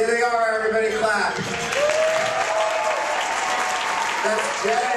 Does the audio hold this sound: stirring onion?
no